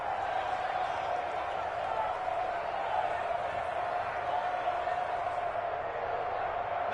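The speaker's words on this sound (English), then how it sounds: "the crowd getting into it as we come up on a big third down" Crowd noise in a football video game during a big fourth-quarter third down, a steady, fairly loud stadium roar with a sustained tonal hum, constant throughout with no clear peaks.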